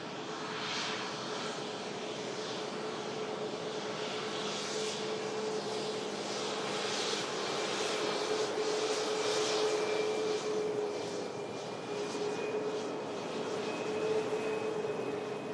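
Saudia jet airliner taxiing at Manchester Airport, a steady, fairly distant engine rumble and whine with a faint tonal hum, holding level throughout with no voices.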